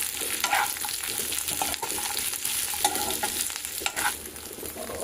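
Cashews and small pieces of coconut fry in hot oil in a pan, a close, continuous sizzle and crackle broken by scraping stirs, with no talking.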